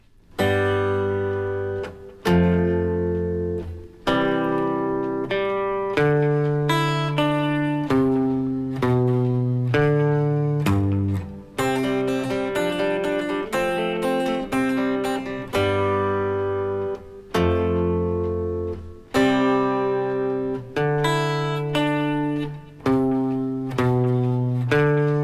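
Acoustic guitar fingerpicks the verse of a song, a steady flow of plucked bass notes and chords, clear and close for the whole stretch with no talking.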